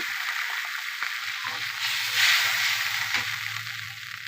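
Water poured into a hot pan sizzles and hisses steadily while a Bengali-style bata fish curry with bitter gourd leaves cooks, a continuous bright frying noise that swells briefly midway and then settles.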